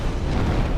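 Deep rumbling roar of a monster's fire attack erupting in a video game, a loud, sustained boom with no voices over it.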